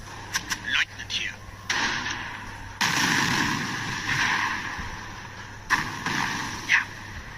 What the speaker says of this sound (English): Mortar group, fire barrage.